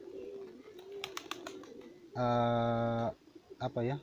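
Pigeons bred for mating produce a low, throaty cooing near the microphone, including one loud sustained coo and a shorter one after it, with someone talking in between.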